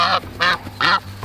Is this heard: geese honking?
yes